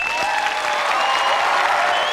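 Studio audience applause and crowd noise, a loud, even wash of clapping that holds steady throughout, with a sustained higher tone layered faintly through it.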